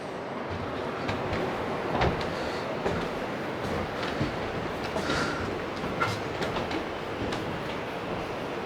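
A train rumbles past near the Kameng River in Arunachal, a steady dense roar with rhythmic clicks and thuds of wheels over rail joints, moderately loud throughout.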